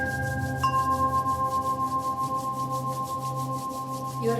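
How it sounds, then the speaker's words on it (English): Palms rubbed briskly together to build warmth for self-Reiki, a close, soft rhythmic swishing at an even fast pace over a steady tonal hum. "keep rubbing your palms"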